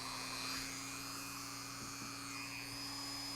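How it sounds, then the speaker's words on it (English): A small motorized polishing wheel dressed with compound lightly buffs the soldered area of a gold-plated eyeglass frame, giving a faint, steady high whine over a low motor hum. "So I'm taking my polishing wheel, dressed with some compound, and just lightly buff that soldered area"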